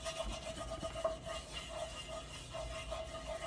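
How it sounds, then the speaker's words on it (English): A wooden spoon scrapes and rubs across a pan coated with hot oil, giving steady close rasping strokes over a soft background sizzle, with no talking. "And I'll grab my wooden spoon."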